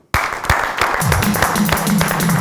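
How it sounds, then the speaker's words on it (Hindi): A television studio audience bursts into applause to welcome a guest onto a talk show, a dense burst of clapping that starts abruptly after a brief silence and carries on steadily, with a voice faintly mixed in. "बहुत सारी तालियों में वेलकम कीजिएगा मोहतरमा निम्रा खान साहिबा जी"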